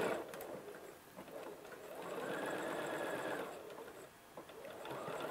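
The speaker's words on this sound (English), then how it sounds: "we're going to slip it under here and stitch an eighth of an inch from the edge" A sewing machine edge stitches fabric an eighth of an inch from the edge, whirring steadily at close range in two long runs separated by a brief pause.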